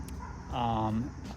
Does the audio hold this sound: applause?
no